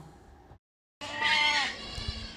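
A milking nanny goat bleats loudly and close by, a long wavering cry, with a short silence before it and farmyard noise around it, near her two young kids.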